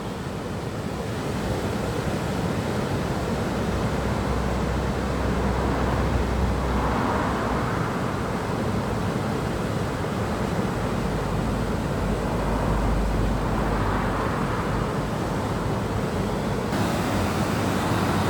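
Ocean waves crash and surge continuously, a steady roaring wash of surf with swells rising every few seconds, loud and close, with wind noise on the microphone.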